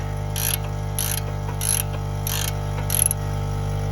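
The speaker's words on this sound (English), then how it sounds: "And you take your 24mm wrench, like that." A 24mm ratchet wrench loosens a front strut bolt, five short bursts of rapid clicking spaced by pauses over a steady low hum.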